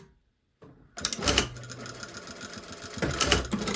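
A sewing machine stay stitching layers of fabric together near the edge of an anchored inseam pocket: brief silence, then a loud close whirring run of rapid stitches that pauses briefly and starts again.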